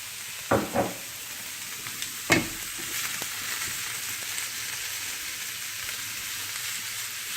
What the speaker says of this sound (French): On attend un petit peu de saisir les sausages.